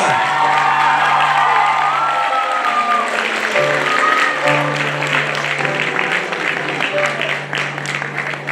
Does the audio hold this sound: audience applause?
yes